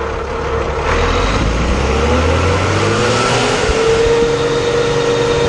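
Fiat 1000 DT Super tractor engine in fourth gear at idle, then throttle opened hard: a loud, steady diesel roar that rises in pitch as it accelerates, heard close with no talk.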